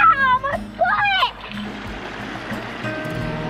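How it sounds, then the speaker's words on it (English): A small waterfall at a hot spring pours in a steady, close rushing wash of water, heard after a brief stretch of talking at the start. "It's a waterfall."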